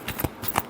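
Tarot cards being shuffled, two or three quick soft riffling flicks close to the microphone over a very brief moment.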